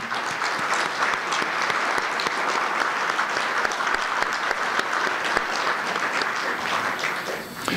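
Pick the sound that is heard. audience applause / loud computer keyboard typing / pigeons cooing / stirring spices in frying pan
audience applause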